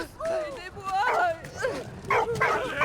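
Dog in the World War I game Valiant Hearts: The Great War, giving a run of short yips, whines and barks, close and fairly loud throughout.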